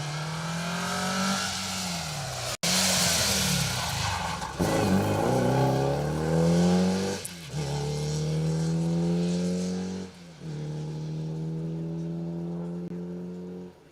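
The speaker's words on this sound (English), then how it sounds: "Here is the Gilburn Genie, the second of the Gilburns, driven by Mark Jones and Tom Rendell on the pace notes" The Gilburn Genie rally car, driven by Mark Jones and Tom Rendell, races along an asphalt stage, its engine revving hard through repeated gear changes and rising pitch sweeps, loud and close.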